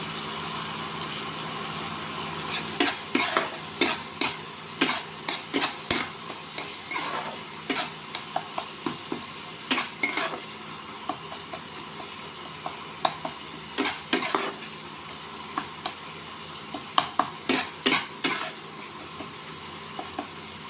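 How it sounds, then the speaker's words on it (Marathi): Tempering for a Marathi toor dal tadka frying and being stirred in a pan, with steady sizzling broken by repeated sharp clicks and scrapes of the spoon against the vessel, close and without talk. "फ्राय करून घ्यायचं असं।"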